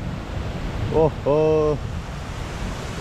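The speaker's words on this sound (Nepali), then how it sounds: "झन्डै 1 घन्टा जति पानी पऱ्यो यस्तो फुहारेमा बाढी आइसक्यो" Rushing floodwater after an hour of heavy rain near a Nepali village homestay, a constant roaring wash of water that runs throughout, while a man briefly exclaims over it partway through.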